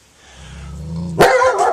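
A caged pet dog gives a rising whine that breaks into a single loud, close bark, followed by a short trailing yip.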